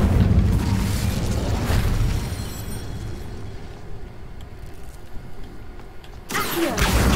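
Incendio fire spell cast in a Harry Potter video game: a loud whooshing boom up front that fades into a crackling, rumbling burn, then another sharp burst near the end.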